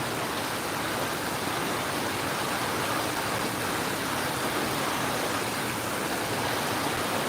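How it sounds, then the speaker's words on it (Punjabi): Rain has arrived at a house and falls steadily as a dense, even hiss that never changes, close and fairly loud, with no voices. "ਜਦੋਂ ਅਸੀਂ ਘਰੇ ਪਹੁੰਚੇ ਉਹਨਾਂ ਚਿਰ ਨੂੰ ਮੀਂਹ ਆ ਗਿਆ"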